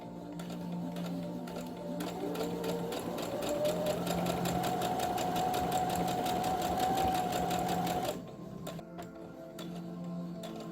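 A sewing machine back stitches and then sews ruffles onto children's pants, a close, rapid mechanical ticking hum that speeds up into a steady run, then stops abruptly near the end before a few slower stitches.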